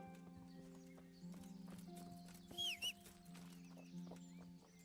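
In Mass Effect Legendary Edition, a horse's hooves clip-clop in a steady rhythm close by, with a brief whinny partway through and faint game ambience behind.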